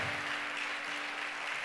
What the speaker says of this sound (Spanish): Aplauda con ganas al Señor en nombre de Jesús.